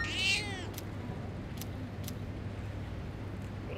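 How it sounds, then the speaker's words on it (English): A cat meows in the video game Persona 3 Reload, one short, high mewing call at the start followed by a few faint clicks over a quiet background hum. "This cat look very weak,"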